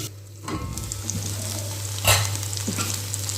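Okra (ladies finger) cooks in a pan with a moderate, even sizzle, a constant low hum underneath and one sharper clatter partway through.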